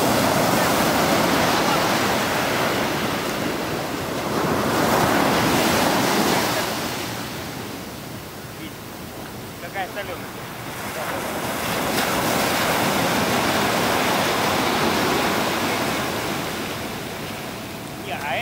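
Ocean waves surge and wash in steady swells off Sri Lanka, with heavy wind buffeting the microphone throughout.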